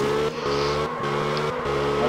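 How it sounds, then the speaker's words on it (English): A drifting car in the racing game Absolute Drift, its engine held at a steady high drone with a few brief dips as the throttle lifts, loud and continuous. "Look at me, I'm drifting massive."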